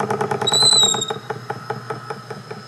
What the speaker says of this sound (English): The noise you're hearing is the squeaking from the glass and the Teflon.